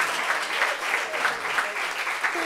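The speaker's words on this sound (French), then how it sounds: "On applaudit pour ça." Audience members at a meeting clap in a soft, fairly even wash, with faint rhythmic accents from a few closer hands throughout.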